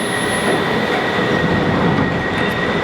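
A London Underground Night Tube train runs on the Piccadilly line in the early hours, giving a loud, steady rumble with a faint, sustained wheel whine over the top.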